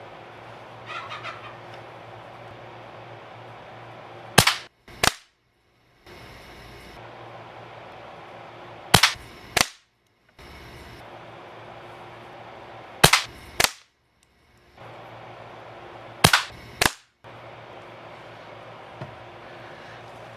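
A restored Benjamin 312 .22 calibre air rifle fires five sharp shots, each a crisp crack followed quickly by a second snap of the pellet striking, spaced several seconds apart over quiet outdoor background hum.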